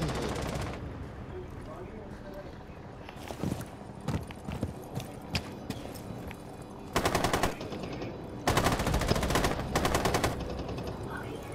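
Bursts of automatic gunfire from a Rainbow Six Siege match, scattered single shots early on, then two dense sustained volleys later, loud and close with game ambience between.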